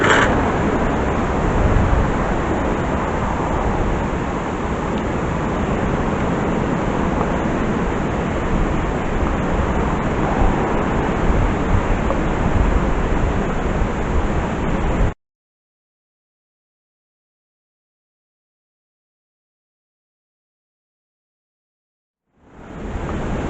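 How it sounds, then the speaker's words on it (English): Wind blowing outdoors on a chilly day, a loud, steady broadband rush buffeting the microphone for about fifteen seconds, then cutting to silence before returning briefly at the end. "The wind's blowing."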